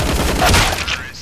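Rapid video game gunfire fired while running, a dense burst of shots with a voice talking over it.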